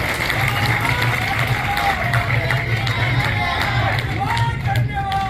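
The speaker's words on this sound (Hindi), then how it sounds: "जरा राजन जी के लिए तालियां बजा के स्वागत कर दीजिए इंदौर वालों।" An audience in Indore applauds at a public event marking new flights from Rewa: dense, continuous clapping and crowd hubbub fill the hall steadily, with a voice carrying over it.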